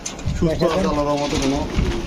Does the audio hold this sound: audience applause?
no